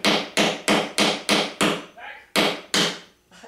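A hammer drives a nail into wood while a dog house is being built, with eight sharp, evenly spaced blows, loud and close, and a short pause before the last two.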